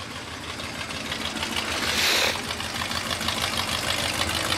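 A Robur truck engine runs with a steady pulsing idle, then revs briefly and louder around the middle before settling back; no voices are heard.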